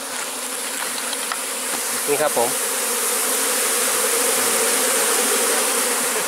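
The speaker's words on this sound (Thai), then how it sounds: "นี่คือเสียงผึ้งนะครับเสียงผึ้ง" Wild cavity-nesting honey bees hum at a tree hollow nest on Doi Tung, a dense steady buzz that fills the whole span loud and close. Someone speaks briefly partway through.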